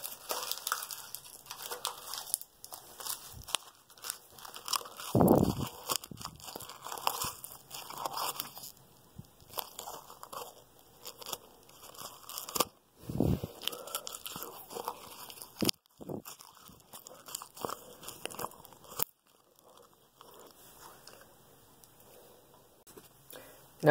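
Paper being chewed, heard as a long run of close, soft wet crunches and bites in an irregular rhythm, with occasional louder crinkling thumps and brief pauses.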